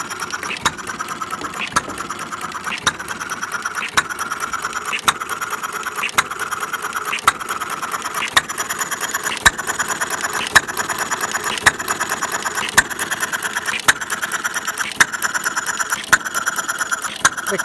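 Half-scale Domestic side-shaft hit-and-miss model engine running on naphtha, firing sharp regular pops roughly every second over a steady mechanical clatter and whir, close and sustained.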